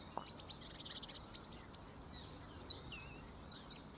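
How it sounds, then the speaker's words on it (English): A bird sings outdoors with short chirps and whistled trills scattered across the clip, moderately distant, set against a steady wash of insect and ambient noise, no voices. "There he's singing for me."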